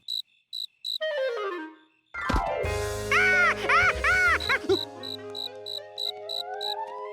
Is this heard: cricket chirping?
yes